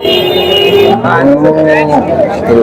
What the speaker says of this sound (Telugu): ఇంకా ఉన్నాయి ఆవులు చాలా ఉన్నాయి చూడండి అంతా పాల ఆవులు